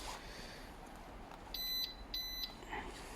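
A Ducati Multistrada 950 motorcycle fitted with a Legos 2 alarm system gives two short, high electronic double beeps in quick succession, followed by a fainter chirp, over quiet background hiss.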